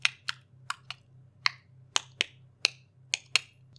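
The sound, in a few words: tongue clicking imitating Morse code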